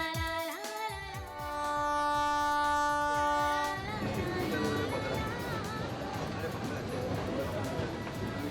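A local train running, opening with a long horn blast, then a loud, steady rumble and rattle of carriages on the rails, with voices talking over it.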